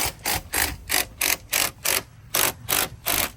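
A hand ratchet working manifold bolts on a 2001 Toyota Tacoma, close up, with about ten evenly spaced rasping clicks in a steady back-and-forth rhythm.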